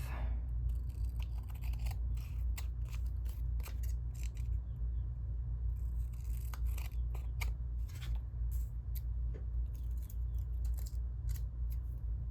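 Scissors snip through washi tape in a run of sharp, irregular cuts and clicks, close up and fairly quiet over a steady low background hum.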